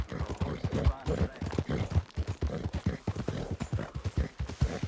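Horse hooves clip-clop in a steady rhythmic gait in Red Dead Redemption 2, each hoofbeat a distinct close thud in a regular cadence that continues throughout.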